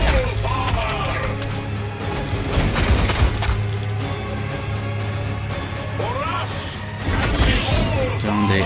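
Squads open fire in the Warhammer 40,000: Sanctus Reach video game, with dense bursts of gunfire, crashes and mechanical clanks over a steady low game drone, loud and continuous throughout.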